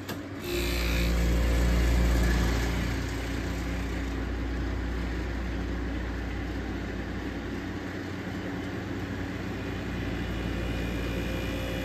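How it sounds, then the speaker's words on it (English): A Fedders Weather Wheel air conditioner compressor runs with a steady low hum and broadband drone, louder in the first seconds and then settling into a constant mechanical whir with no talk. "All right, the compressor is running. It's starting to build head pressure."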